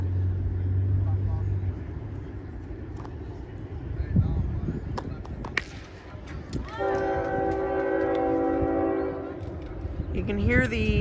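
A train passes near a baseball diamond during a tournament game, rumbling in the background before its horn blasts in a sustained, moderately distant tone, with a voice talking over parts of it.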